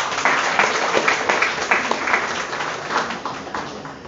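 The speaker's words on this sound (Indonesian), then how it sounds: "tepuk tangan untuk kita semua dong." An audience at a public speaking session applauds, a loud, continuous wash of clapping hands with slight swells, lasting about four seconds and fading a little at the end.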